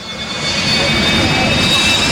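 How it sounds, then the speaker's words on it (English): Jet-powered car at a speedway roaring steadily down the front straightaway, a loud broadband whooshing jet roar with a high whine that swells slightly then holds constant throughout. "let's let the jet engine do all the talking"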